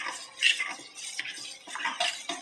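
Custard powder stirred into cold milk with a spoon, giving soft, continuous scraping and light clinking against the bowl in uneven strokes, close and fairly quiet with no talk.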